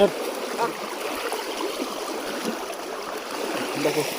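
A monsoon-swollen river rushes forcefully during night fishing, a broad steady wash of flowing water close by, with faint knocks and brief sounds over it.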